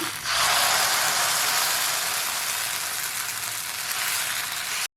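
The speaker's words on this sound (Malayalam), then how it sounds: "തവയിലേക്ക് ആവശ്യത്തിന് വേണ്ട ബാറ്റർ ഒഴിച്ചു കൊടുക്കാം" Broken wheat appam batter hits a hot oiled tava over a medium flame, setting off a sudden loud sizzle after a brief quiet start that holds steady for about four seconds, with no talking.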